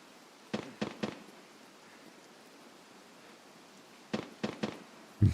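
Bursts of distant gunfire from a boss in Escape From Tarkov, two quick clusters of three sharp cracks separated by quiet ambient hiss, faint and far off, with a louder thump at the very end.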